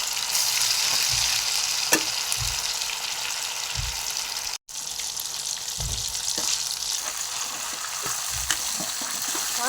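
Chicken 65 frying in hot oil makes a continuous bubbling sizzle, punctuated by a few soft low thumps and one momentary dropout, with no talking.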